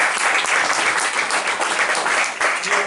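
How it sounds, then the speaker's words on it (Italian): Sustained audience applause at an Italian talk on modern and ancient festivities of the ancient Veneti, dense steady clapping filling the room throughout with no gaps. "Ci facciamo un applauso"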